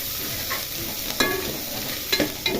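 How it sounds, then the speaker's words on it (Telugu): Onions frying with garam masala in a pan for chicken pulao, browning in a steady close sizzle with a few sharp scraping stirs toward the end, no speech. "ఇలా ఫ్రై అవ్వాలి కదా. ఈ ఆనియన్స్ అయితే బ్రౌనిష్ కలర్ రావాలండి"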